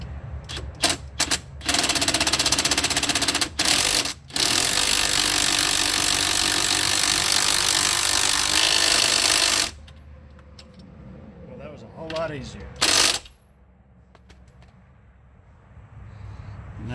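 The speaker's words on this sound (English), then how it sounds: "we're going to be able to use our 18mm socket and impact instead of having to mess with that T40 bit" An impact wrench with an 18mm socket runs on sway bar bushing bolts of a Dodge Grand Caravan, with a few short bursts and then a long loud sustained whir up close, followed by quieter clatter and one last brief burst.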